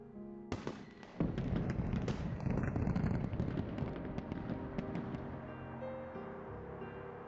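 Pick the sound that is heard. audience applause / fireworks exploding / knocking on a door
fireworks exploding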